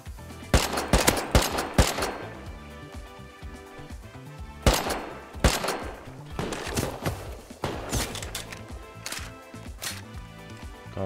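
Gunfire in the video game Rust comes in rapid volleys and scattered single shots, loud and sharp with some echo, in two main clusters over several seconds.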